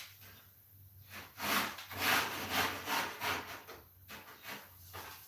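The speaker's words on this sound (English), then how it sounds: "We can use our hammer rasp." A hammer rasp scrapes back and forth in a series of rough, rhythmic strokes during a vent repair near drywall, each pass a gritty rasp with short pauses between, close and moderately loud.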